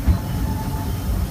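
The Disneyland Railroad train rumbles along at a steady pace, heard from onboard as a loud continuous low roll with faint rail noise.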